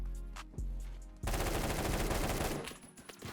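An AK rifle firing fully automatic in the video game Phantom Forces, with a few single loud shots followed by a rapid, sustained burst of closely spaced gunfire.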